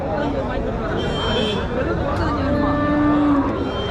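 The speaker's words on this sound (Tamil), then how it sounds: "மாடு நிறைய மாடு வருது" Cattle, including crossbred dairy cows, low and moo at a busy livestock market in Uthangarai, the lowing rising over constant crowd babble and background chatter.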